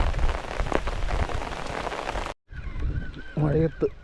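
Heavy monsoon rain drums steadily on surfaces during a fishing outing, a dense loud patter that cuts off abruptly and resumes more lightly with a brief vocal sound near the end.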